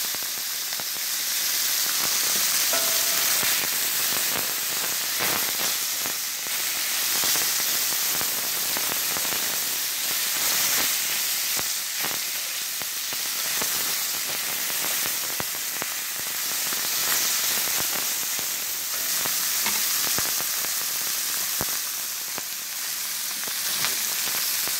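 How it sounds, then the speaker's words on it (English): Deer meat sizzling and frying on high heat in a pan, a steady loud hiss and crackle with scattered pops running unbroken throughout. "You want to cook it on a high heat, kind of like stir fry."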